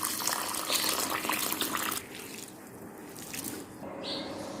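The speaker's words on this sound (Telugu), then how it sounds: "ఇప్పుడు వీటిని 2 సార్లు శుభ్రంగా కడిగేసాం" Sago, rice and fenugreek seeds are rinsed in water, a steady close splashing and sloshing that eases off partway through, with no talking.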